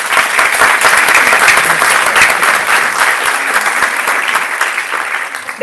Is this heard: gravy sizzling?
no